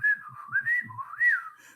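A person whistles a short, wavering melodic phrase up close, imitating whistling inmates, clear and alone with a few soft low bumps beneath.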